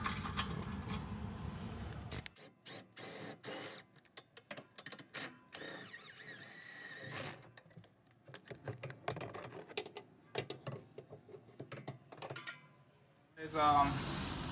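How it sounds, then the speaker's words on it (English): A 17 mm bolt comes off the underside of an Acura TSX, with ratcheting and rapid mechanical clicking from a tool in quick bursts and short pauses, close and moderately loud. "So right now we're gonna take off this 17 bolt on the bottom."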